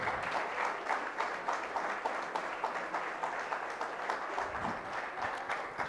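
Steady, dense audience applause at the Super-X 6.0 prize ceremony run by Core2web, a roomful of hands clapping continuously at even strength for the whole stretch, with no voice standing out.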